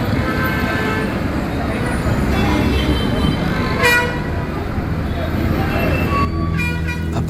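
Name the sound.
traffic noise and car horns on a main road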